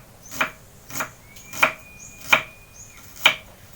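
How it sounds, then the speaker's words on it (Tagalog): A knife slices through an onion on a board in five evenly spaced, crisp chopping thuds, close and distinct against a quiet room with no speech. "i-slice ko na rin po itong ating sibuyas"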